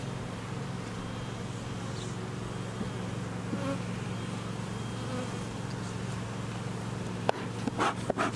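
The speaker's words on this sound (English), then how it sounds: "There's still a lot of bees in here." A dense, steady hum of many honey bees buzzing up close in a hive, continuous throughout, with a few brief knocks near the end.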